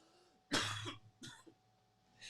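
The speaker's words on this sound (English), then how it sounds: "That's the vape cough." A single harsh cough bursts out, followed by a second smaller cough and a throat-clearing sound, close and fairly quiet.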